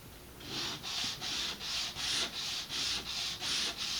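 Sandpaper rubbed back and forth over stacked wood pieces to remove burrs, about nine even strokes in a steady rhythm, close and alone.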